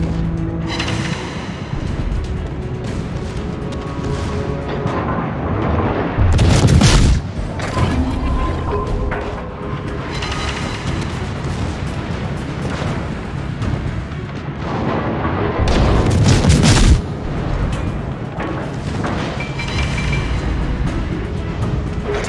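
Video-game artillery fire called in on a target: a continuous roar of battle noise with heavy booming barrages swelling twice, dense and loud throughout.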